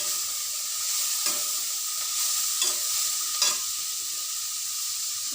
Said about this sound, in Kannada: ಈಗ ಕ್ಯಾರೆಟ್ ಹಾಕ್ತಾ ಇದ್ದೀನಿ. ಹಸಿಮೆಣಸಿನ್ಕಾಯಿ, ಕರಿಬೇವಿನ ಸೊಪ್ಪನ್ನು ಹಾಕ್ತಾ ಇದ್ದೀನಿ.